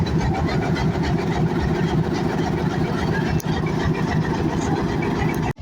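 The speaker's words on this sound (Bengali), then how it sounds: "জেট ইঞ্জিন স্টার্ট করলো, আপনারা দেখতে পাচ্ছেন।" A train locomotive engine starts up and runs at Poradah junction railway station, a steady loud rumbling drone that holds throughout at close range, with no speech.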